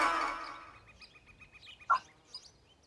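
A hawk-call sound effect plays in a Code.org programming lesson: a loud, harsh screech at the start, then a run of thin, quieter chirps and one short sharp cry.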